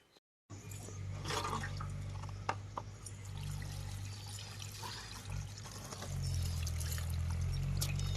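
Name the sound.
pouring bucket water to wash fish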